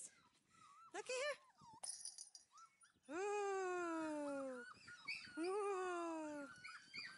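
Five-week-old Dalmatian puppies whimper and whine in high, sliding cries, with several long drawn-out wails coming close and loud, while a person coaxes them in a soft voice.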